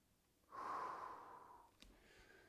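A single deep breath during a stretching flow, a soft, close exhale swelling then fading over about a second in an otherwise quiet room.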